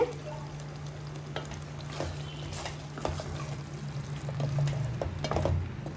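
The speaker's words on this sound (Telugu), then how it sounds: "కసూరి మేతి వేసి ఒక 2 మినిట్స్ ఫ్రై చేద్దాం" Butter chicken masala with kasuri methi fries in a pan, a steady low sizzle with soft stirring scrapes building slightly toward the end, no voices.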